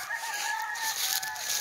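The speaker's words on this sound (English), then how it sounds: "You hear them chickens?" Chickens cluck and call faintly in the distance over a steady hiss of outdoor noise.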